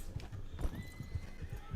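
Steady hooves of a horse in the video game Red Dead Online clip-clopping at a trotting rhythm, with a brief whinny, fairly quiet, against a low background.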